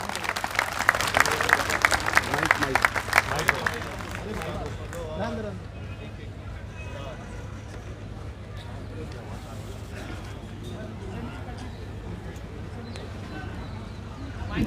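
Audience applause welcoming speaker Rajendra Pal Gautam at a public gathering, a dense burst of clapping for about four seconds that then fades into a quieter room with murmurs and voices.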